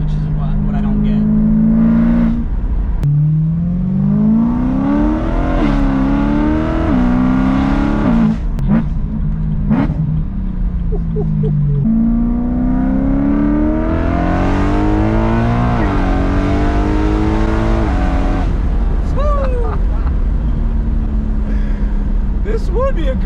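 A Dinan stroker BMW M3 E92 engine revs hard under acceleration, a loud, continuous rising and falling V8 roar with repeated upshifts, heard from inside the car while people talk over it.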